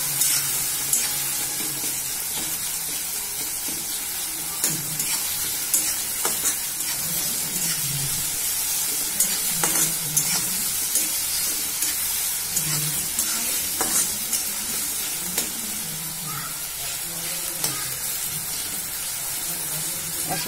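Chopped tomatoes sizzle in hot oil in a home kitchen for homemade noodles, with a constant close hiss broken by repeated scraping stirs and soft clicks of a spoon against the pan.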